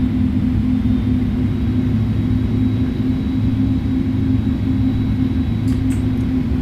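Airbus A310 jet engine running up after start in Microsoft Flight Simulator 2020, a loud continuous low rumbling drone with a steady hum and no talk.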